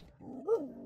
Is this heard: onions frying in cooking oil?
no